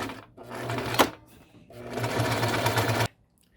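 A sewing machine stitches a Christmas stocking in short bursts: a quick run, a pause, then a longer burst that ends abruptly.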